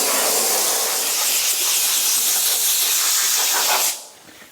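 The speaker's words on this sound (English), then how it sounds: "now I'm going to blow some clean air on it" Compressed air blown onto motorcycle parts in a paint booth: a loud, steady, close hiss held for about four seconds before cutting off abruptly.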